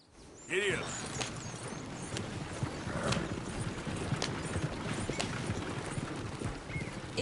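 Horse hooves clip-clop in Red Dead Redemption 2, a steady run of moderately loud hoofbeats with occasional harness clatter and a brief whinny near the start.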